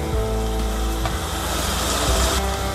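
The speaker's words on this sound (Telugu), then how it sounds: "మొత్తం బాగా మిక్స్ చేసుకుందాము" Banana flower curry is stirred in a pan with turmeric, coriander powder and garam masala, a loud steady sizzle with scraping strokes of a spoon running throughout.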